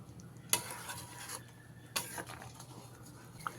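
Katla fish curry with green chillies, tomato and coriander stirred in a pot: two distinct spoon scrapes and clinks against the metal over a faint simmering sizzle, close and quiet, no speech.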